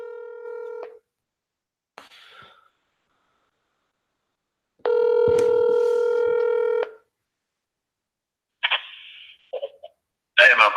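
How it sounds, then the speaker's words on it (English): A telephone dials out to return a call: two bursts of steady dial or call tones, then short runs of rapid keypad beeps near the end, loud and clear against silence, with no talking. "I'm going to call them back"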